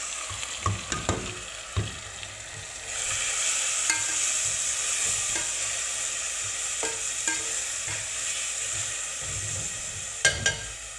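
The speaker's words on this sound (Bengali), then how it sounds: "চুলা ঢেমে রাখি, সাথে টমেটো আছে, এই যে এগুলো ঢেলে দিচ্ছি" Blended tomatoes with red chilli and spices are poured into a hot pan on a stove and fried, making a continuous close sizzle. A spoon stirs and scrapes against the pan in sharp scattered knocks.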